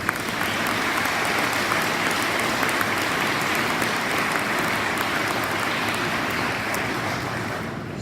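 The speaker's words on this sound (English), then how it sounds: "Please join me in a round of applause to thank them for their efforts" A large audience at an event gives sustained applause, a dense, even wash of clapping held steady for several seconds before easing slightly at the end.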